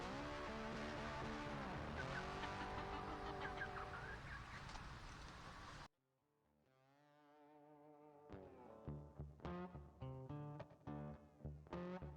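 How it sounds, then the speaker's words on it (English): Chickens cluck in short bursts after a loud, dense stretch of noise suddenly cuts off; the clucks come close and irregular. "Yep, happy chickens."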